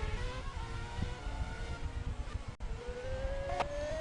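Formula 1 cars racing in a video game at the Canadian Grand Prix, with steady droning engine whines that rise in pitch under acceleration, several cars overlapping over constant background noise.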